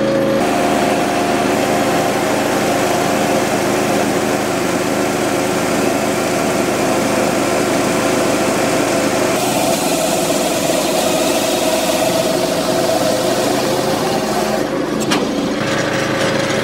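A Brugger combined log saw-splitter runs continuously while cutting firewood, its engine droning loud and steady with a constant hum, the tone shifting briefly partway through as the cut proceeds.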